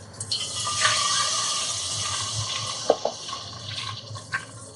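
Half a cup of milk pours into a pan of ghee warming over a low flame, a steady close liquid rush with a few small splashes and drips and no talking.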